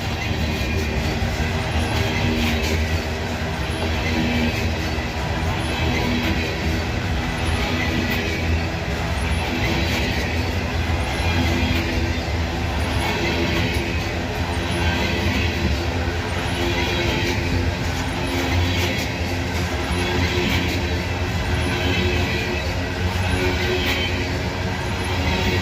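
A freight train rolls past close and loud, its steady wheel rumble broken by recurring heavy thumps from wheels with flat spots, with no talk over it.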